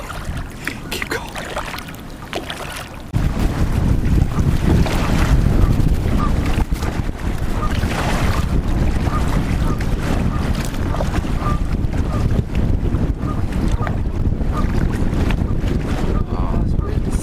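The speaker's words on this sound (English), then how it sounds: "Oh, this wind sucks" Strong gusty wind buffets the microphone while kayaking on the West Nishnabotna river, roaring loudly and steadily after a quieter opening, with faint paddling and water sounds and occasional voices underneath.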